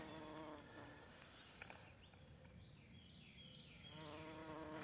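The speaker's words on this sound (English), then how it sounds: "The carpenter bee is at work." Carpenter bee buzzing outdoors on a cold, cloudy April day, a steady insect drone with faint shifting whines over constant background noise, no voices.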